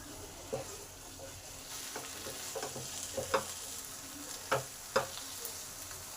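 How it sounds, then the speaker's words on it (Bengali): Bean curry fried and stirred continuously over medium heat, a low steady sizzle broken by several distinct spatula knocks and scrapes against the pan, close and unaccompanied by talk. "এবার এটাকে কন্টিনিউ নেড়ে যেতে হবে মিডিয়াম হিটে"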